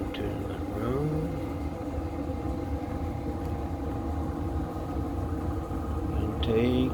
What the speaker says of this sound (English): good old Chinese diesel heater. I got it set up now. Got it piping into the room.